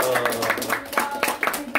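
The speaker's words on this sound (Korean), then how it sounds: "하나님께 영광의 박수 올려드립니다." A congregation claps at a church anniversary worship service, a rhythmic run of hand claps under a voice speaking over it.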